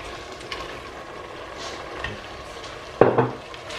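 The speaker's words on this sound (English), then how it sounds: "So now I'm adding my tomatoes," Chopped tomatoes dropped into a cabbage stew, with a soft sizzle and a few light stirring scrapes ending in a louder clatter of the spoon against the pot.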